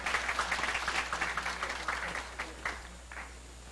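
Audience members at a working holiday seminar applaud to welcome a speaker; moderate, steady clapping from a smallish crowd that gradually thins and fades over a few seconds.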